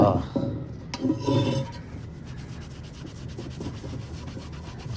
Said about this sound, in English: You can see we're just buffing it off by hand